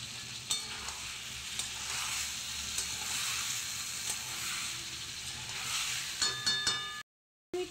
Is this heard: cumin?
yes